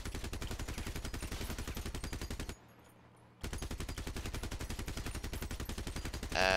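Rapid-fire machine gun in the Crossout vehicle combat game, firing in fast, steady loud bursts that break off for under a second and then resume, with a final heavy blast at the end.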